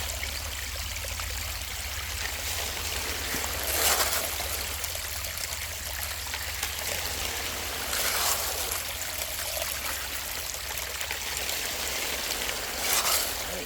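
Water rushes steadily through a gold prospecting sluice as material is fed in, a continuous close trickling flow with occasional louder splashing surges.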